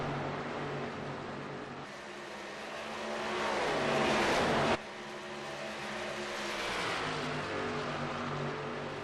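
Race cars on a track at a main event roar past, an engine note climbing and building to a loud peak before cutting off abruptly, then other cars droning on at a distance in a steady rumble.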